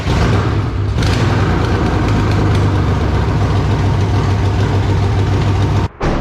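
A BMW E36 engine runs on its first start after repair work, a loud, close, steady idle with a deep rumble and a faint knocking beat that continues almost unbroken until a brief cut near the end.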